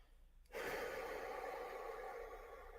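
Deep breathing through the mouth, beginning abruptly after a moment of near silence and continuing as a steady, close, breathy rush of air that eases slightly toward the end.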